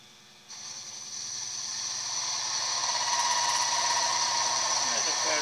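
A lathe cuts a stainless steel 304 handle shaft pin with a steady, loud machining hum and a bright metallic cutting whine that builds and then holds evenly throughout.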